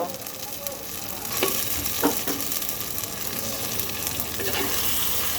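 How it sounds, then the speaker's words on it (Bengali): Mutton pieces sizzle and fry with spiced potatoes in a clay pan, a steady dense crackle with a few brief scraping stirs, close and fairly loud throughout, no talking. "এখন আমি দিয়ে দেব আমার খাসির মাংস"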